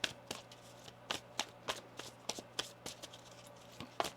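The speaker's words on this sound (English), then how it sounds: "One more shuffle." Tarot deck shuffled by hand, a rapid run of crisp card snaps and flicks in an irregular rhythm, close and clear with no talking.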